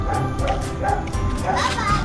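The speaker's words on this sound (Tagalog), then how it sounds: "Hello, may aso!" A dog barks repeatedly in quick yips amid busy background noise, with voices chattering over it.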